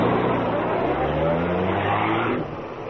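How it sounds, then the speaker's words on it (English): A car starts and speeds away in an old-time radio drama, the engine revving up with a loud, rising roar and a squeal of tires before fading slightly at the end. "Kato, start the car, quick."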